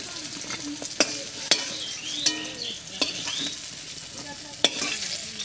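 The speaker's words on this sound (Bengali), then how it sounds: "বেগুনটা বেশ লাল করে ভেজে নিয়েছি, এবার নামিয়ে নিচ্ছি।" Eggplant pieces fry in hot oil in a pan, giving a steady sizzle with several sharp clinks and scrapes of stirring over it, close and without speech.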